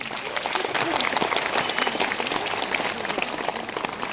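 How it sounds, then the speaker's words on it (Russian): A concert audience applauding a guitarist from a band in Tula, lively dense clapping with crisp individual claps standing out, while voices talk faintly underneath. "Сережа, аплодисменты."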